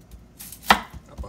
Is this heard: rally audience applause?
no